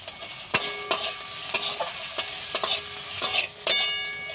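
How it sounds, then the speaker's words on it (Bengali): Ginger, garlic and onion frying in a pan over a medium flame, a soft background sizzle broken by sharp, regular spatula scrapes and taps roughly every half second, close by with no speech. "আদা রসুন পেঁয়াজটা পুরো ভালো করে ভেজে নিয়েছি"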